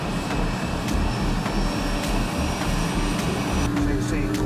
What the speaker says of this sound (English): flick the engine switch on